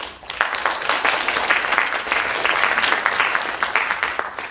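An audience claps steadily for scholarship recipients at a youth foundation's 2021 annual awards ceremony, a dense, even wash of applause filling the room from start to finish.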